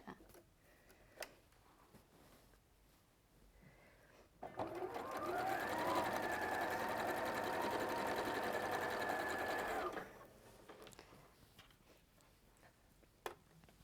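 A sewing machine chain piecing quilt border strips runs in one steady, loud burst of about five seconds, with quiet handling before and after and no talk over the stitching.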